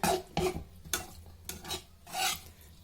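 Tomato, tamarind and garlic in a pan, several separate scraping stirs about half a second apart, with only a faint sizzle underneath.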